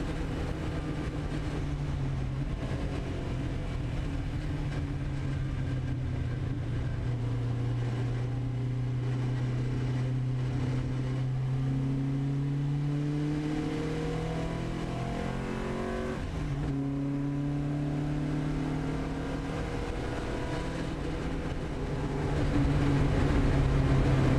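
A classic Marcos race car drives at Silverstone, its engine droning loudly from inside the cockpit, rising in pitch through the gears with shifts and a sustained roar along the straight.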